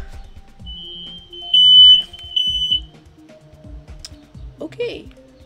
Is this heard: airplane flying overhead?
no